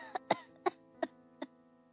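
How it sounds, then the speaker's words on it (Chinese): A woman coughs in quick succession, five short sharp coughs spaced unevenly over two seconds against a faint tonal background, fairly quiet. "也许是说的太多了，母亲剧烈的咳嗽了起来"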